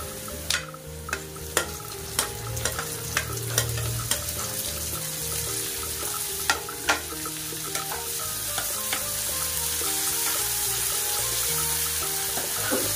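Onion and tomato frying in a pan for an okra gravy, a steady close sizzle with repeated sharp scraping and stirring clicks from a spatula, no voices.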